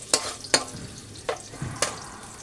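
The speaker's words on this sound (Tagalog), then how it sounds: "Gisahin ko na ang bawang." Garlic sautéing in hot oil in a pan, with several sharp stirring scrapes and bursts of sizzle over a low, steady frying hiss, close and fairly quiet.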